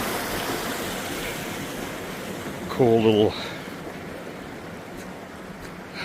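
River water flowing through Coyote Gulch, a steady broad wash of rushing water with wind across the microphone, heard throughout while a person briefly speaks.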